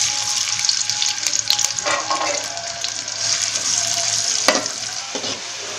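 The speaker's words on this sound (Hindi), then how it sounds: "प्याज को ब्राउन कर लेंगे।" Onions sizzle and crackle steadily as they brown in hot oil for chana pulao, with occasional scraping stirs and clinks close by.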